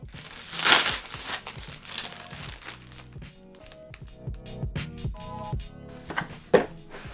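Protective film being peeled off a PS5 accessory, giving quiet crinkling and crackling plastic sounds in short bursts over soft background music.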